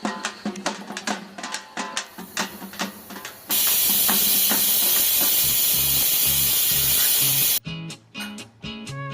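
Tempering spices for a Naati style chicken sambar hit hot oil with a loud, steady sizzle lasting about four seconds. Rhythmic clattering comes before and after it.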